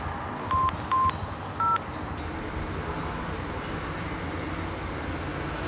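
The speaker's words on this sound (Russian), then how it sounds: "позвони, пожалуйста, Мише еще раз" Three short telephone dialing tones, evenly spaced in the first two seconds while placing a call, then a steady low hiss of background noise with no voices.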